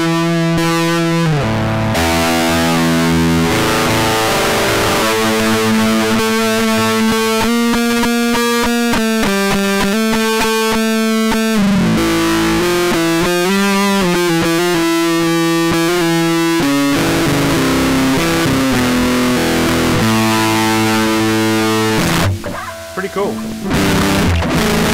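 Electric guitar played through a Grunge distortion patch in VCV Rack, giving thick, fuzzy sustained chords and riffs that keep changing. The playing runs loud and unbroken, with a brief thinning near the end.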